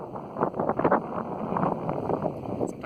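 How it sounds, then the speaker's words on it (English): Wind gusts outdoors in cold weather, buffeting the microphone with uneven rumbling puffs that swell and fade, fairly close and steady across the whole stretch. "It's windy and cold up here."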